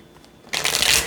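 A deck of tarot cards riffled in one quick shuffle, a brief crisp rush of flapping card edges after a moment of near silence.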